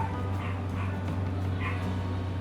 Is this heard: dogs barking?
yes